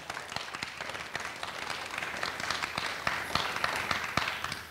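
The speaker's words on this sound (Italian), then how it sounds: "Allora, applauso." Audience applause at a live Italian talk show taping, a dense crowd of clapping hands with sharp individual claps standing out, sustained and steady at moderate distance.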